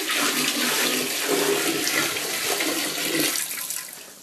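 Hot water is dumped into a clogged toilet bowl, making a steady, loud rushing pour for about three seconds before it tapers off, with no talk.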